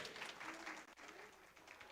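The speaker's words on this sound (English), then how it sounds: "Please give a round of applause for all of the speakers." Audience applause for the speakers at a bilateral meeting session at COP 30 in Belém, Brazil, a steady wash of clapping lasting about two seconds at moderate level, with a brief dip near the middle.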